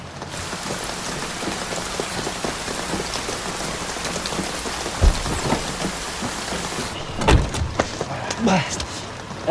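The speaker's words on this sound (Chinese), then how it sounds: "这雨是越来越大了" Heavy rain pours steadily onto surfaces with dense patter throughout, a few louder thuds and rumbles breaking through, while voices talk over it.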